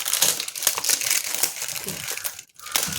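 Plastic packaging of a wireless microphone is unwrapped by hand, giving close, continuous crinkling and crumpling with a brief pause near the end.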